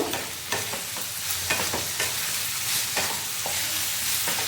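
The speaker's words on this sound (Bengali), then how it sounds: "এবার আমি সয়াবিনগুলো দিয়ে দেবো। ভালোভাবে মিশিয়ে নেব।" Soya chunks stirred into a frying pan on low heat while cooking soya chilli, a steady close sizzle broken by repeated scraping stirs and clinks at irregular intervals.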